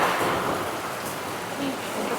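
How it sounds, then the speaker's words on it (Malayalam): Heavy, steady rain pours down outside, with a thunderstorm rumbling in the background. A continuous broadband wash of rainfall holds at an even loudness throughout. "ഒടുക്കാത്ത മഴയാണ് ഇവിടെ."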